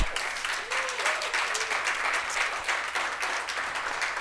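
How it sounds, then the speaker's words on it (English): A studio audience breaks into steady, even applause for the guests of a morning talk show, a dense continuous wash of clapping heard close and at an even level throughout, with no voices standing out. "Let's give another big round of applause to all of our guests."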